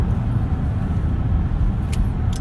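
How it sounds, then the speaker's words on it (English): A loud car engine rumbles steadily up close, a deep continuous roar with no voices, plus a brief high hiss near the end. "Very loud engine noise."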